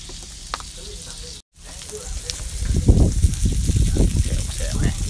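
Onions and food hit a hot pan and break into a loud, crackling sizzle that swells after a brief quiet gap, with people talking over it.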